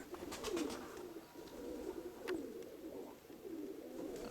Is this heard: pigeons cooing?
yes